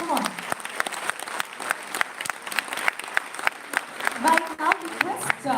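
An audience at a company Founders Day event claps, with individual hand claps sharply distinct at a moderate distance, under a voice speaking.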